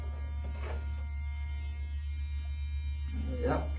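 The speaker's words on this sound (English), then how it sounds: "Homemade tattoo gun, man, with a battery tower" A homemade tattoo machine built from a toothbrush, a pen and a shaver motor, powered by a battery tower, gives a steady electric buzz with a low hum that runs unbroken through the whole stretch, with brief voice sounds near the start and end.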